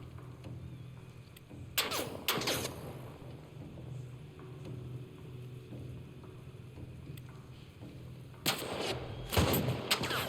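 Loud reports from the El Diablo revolver in The Last of Us Remastered ring out in two clusters of a few shots each, separated by several seconds of quiet game ambience.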